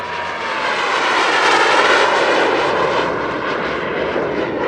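Aero L-29 jet trainer in a flying display at an airshow in Leszno, a loud continuous jet roar passing overhead, swelling and slowly easing, with no voices.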